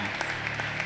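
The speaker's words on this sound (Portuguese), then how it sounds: "Aplauda o Senhor Jesus." Congregation applauding during an evangelical Portuguese-language church service for the Lord's Supper, a brief burst of steady crowd clapping with a murmur of voices underneath.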